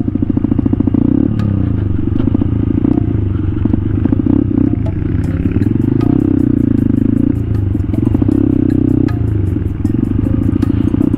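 A small motor scooter engine drones steadily while riding on backroads from Pangasinan to Itogon, Benguet, with a low rumble and occasional rattles, continuous and close.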